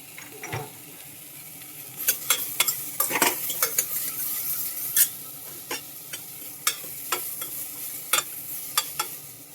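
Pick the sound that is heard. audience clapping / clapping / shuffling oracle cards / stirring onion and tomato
stirring onion and tomato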